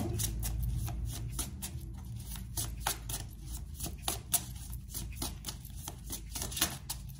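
Tarot cards shuffled by hand at close range, a dense, continuous run of rapid papery riffles and slaps with a few louder accents, alone with no talking.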